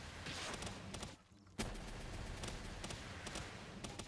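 A weapon in a video game fires rapidly and repeatedly in dense bursts of crackling shots, fairly quiet, with a brief lull partway through before the firing resumes.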